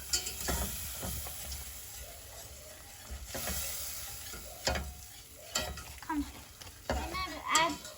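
Flour being stirred into melted butter in a pot to make a roux for homemade mac and cheese, with soft scraping, a light sizzle and intermittent clunks of the spoon against the pan, fairly quiet.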